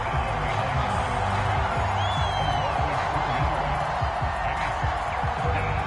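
A video game crowd in an American football match roars and cheers in a steady, dense wash of sound with a few whoops, loud throughout, with a commentator talking over it.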